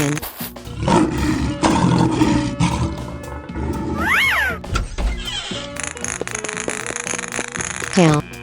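A lion roars in a 3D animal sliding video game, a loud rising and falling growl over busy game music and effects, with a person shouting excitedly around it.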